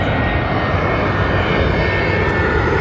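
A British Airways airliner inbound from Glasgow passes overhead at London Heathrow, its engines a loud, steady broadband roar that fills the whole stretch without easing.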